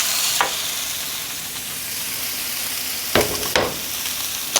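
Steak searing in a hot pan gives a steady, even sizzle and frying hiss, close and moderately loud, broken by a few brief sharp spatters or utensil clicks near the start and end.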